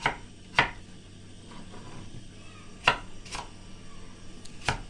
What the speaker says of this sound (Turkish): Yeşil elmalarımızı doğruyoruz.